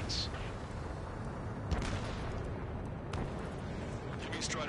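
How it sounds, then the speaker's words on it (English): Ace Combat 7 game scene: a city under martial law with distant booming gunfire and a low rumbling roar of jets, a few sharp reports cutting through the dense, muffled din. "Gunfire and the roar of jets echoing through the streets."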